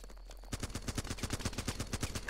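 Rapid automatic rifle fire in the video game Running With Rifles starts after a brief quiet and rattles on in a steady, close burst of about twenty sharp shots.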